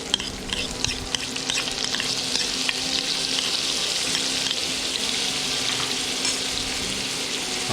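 Garlic sizzles in hot oil while being stirred in a pan, producing a bright, steady crackle and frequent utensil scrapes, close and prominent with no voice over it.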